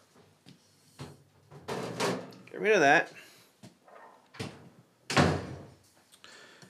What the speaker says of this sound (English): As my husband slams every door in the house.